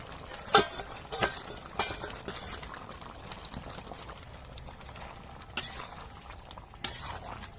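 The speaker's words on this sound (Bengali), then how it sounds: "কিরম ফুটছে দেখো এখনো পর্যন্ত ফুটছে" Fish and green tomato curry bubbling steadily in a pot, a soft continuous simmer with occasional sharper pops and clinks, fairly quiet and close.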